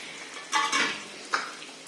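Pumpkin vegetable cooking in a pan, with soft stirring scrapes and a faint sizzle, two brief louder strokes close by, no talking.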